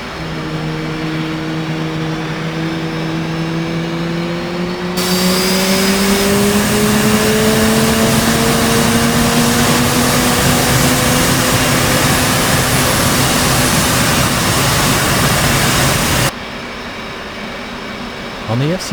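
An F/A-18 jet engine winds up in the DCS simulator cold start: a rising whine climbs steadily, then a loud broad roar joins after a few seconds and holds before cutting back to the quieter whine.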